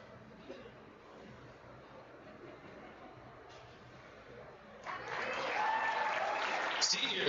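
Crowd applause at a girls' hockey senior night rink ceremony, starting faintly under an announcer's voice and swelling into louder, steady clapping for the final seconds.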